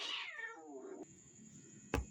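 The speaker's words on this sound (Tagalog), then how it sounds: "Ay, mga pasaway na pusa." Quarrelling cats let out a long, wavering, descending meow-yowl up close, followed by quieter grumbling and a sudden thump near the end.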